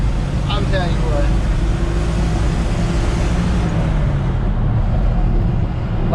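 A 1971 Ford F100 pickup with a three-on-the-tree column shifter being driven, heard from inside the cab as a steady, loud engine and road drone that barely changes, with someone talking over it.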